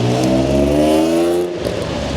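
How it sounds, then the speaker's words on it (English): A car close by revs with a loud, steady engine drone as it drives past, its pitch dropping and fading slightly as it moves away near the end. "much like that car that's just drove past"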